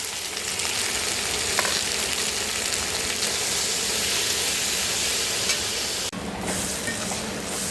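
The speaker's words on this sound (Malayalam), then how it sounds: "ചട്ടി വെച്ചിട്ടുണ്ട്. ഇനി എണ്ണ ഒഴിക്കാം. ഇനി ചെറിയുള്ളി ഇട്ട് കൊടുക്കുകയാണ്." Small shallots fry in hot oil in a pan, a loud, constant crackling sizzle heard up close, with a brief break and a louder burst near the end, no talking.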